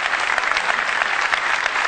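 A conference audience applauds on stage cue at a keynote event, dense, loud and continuous clapping filling the whole stretch with no voices standing out.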